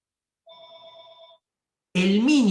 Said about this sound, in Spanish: era el teléfono de casa